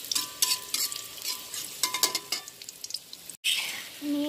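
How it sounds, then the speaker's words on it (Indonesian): Shallots sautéing in hot oil, a close crackling sizzle broken by bursts of spatula stirring and scraping against the pan, pausing briefly before the frying resumes. "Nah, ini udah aku panaskan minyak. Masukkan bawang merah. Kita tumis ya, sampai harum."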